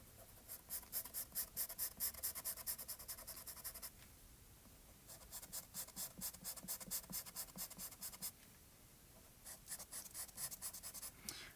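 Colored pencil strokes scratching rapidly across paper in rhythmic bursts, pausing briefly between passes, close and quiet.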